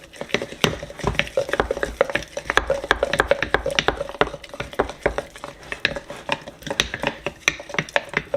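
A spoon stirs sourdough starter of thick pancake-batter consistency in a jar, giving close, repeated scraping and tapping strikes against the glass in a brisk, uneven rhythm.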